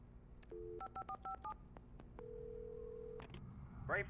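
Telephone dialing in the Alan Wake video game: a short run of distinct keypad tones in a quick uneven rhythm, then one sustained steady tone lasting about a second, close and clear over a low background hum.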